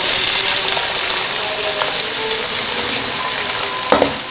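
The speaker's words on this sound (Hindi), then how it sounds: "इसी घी में हम प्याज डाल देंगे और उनको लाइट सा ब्राउन करेंगे।" Onions frying in ghee sizzle loudly and steadily up close, with a short utensil clink near the end and no talk.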